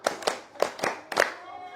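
A classroom of students claps the 'tepuk 5' pattern: five sharp, close hand claps in an uneven rhythm, loud and near, with a brief ringing fade at the end.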